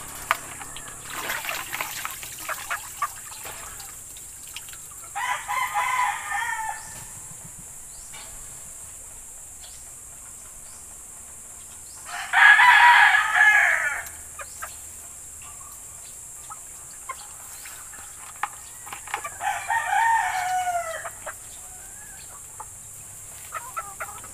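Backyard chickens and roosters, kept by a small-scale breeder, crow and cluck in several separate bursts, one loud nearby crow standing out between quieter calls, with insects and faint rustling in the pauses.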